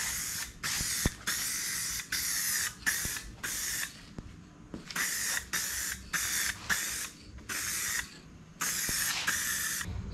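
Short bursts of spray gun fire clear coat with shimmer and sparkle onto 2021 Ford Bronco grill letters painted Black Diamond, about a dozen hissing passes separated by brief pauses, close and steady, with no talking.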